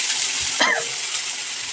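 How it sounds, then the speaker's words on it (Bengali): Spice paste hits hot oil for a potol curry, giving a brief sharp sizzle over a constant steady frying hiss. No one speaks. "তেলেতে মশলাটা দিয়ে দিলাম।"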